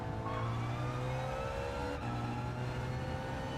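A Porsche race car engine in Gran Turismo 7, a steady tonal drone with layered harmonics and a slight pitch shift midway, moderately loud and without speech.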